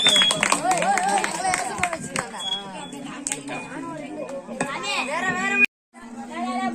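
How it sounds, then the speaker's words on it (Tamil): A group of children claps hands in a lively, uneven patter during an outdoor children's ministry gathering, mixed with overlapping adult and kid voices and chatter close by. "நல்லா கைத்தட்டு பார்க்கலாம்"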